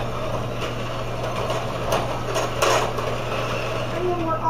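Electric mixer creaming cookie dough with vanilla, a steady low motor hum with faint whirring and light scraping bursts, fairly quiet and constant throughout.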